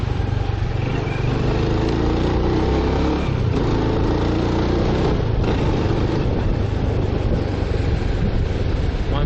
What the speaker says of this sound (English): My motorbike's starting to sound like a dirt bike for some reason